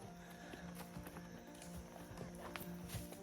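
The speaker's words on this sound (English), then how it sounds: "those horses are beautiful" Hooves clop at an unhurried walking pace, soft and somewhat distant, with a faint steady background and no clear talk.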